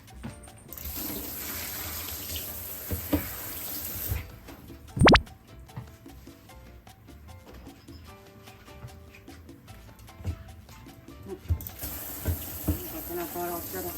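Tap water runs and splashes while a turtle's back is washed in a sink at home, a steady stream with plops and clatters and one sharp knock, and a person talks quietly over it.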